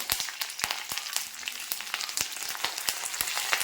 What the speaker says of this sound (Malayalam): നമ്മളിതിലേക്ക് ഇനി ആവശ്യത്തിന് കറിവേപ്പില ഇട്ട് കൊടുക്കുവാണ്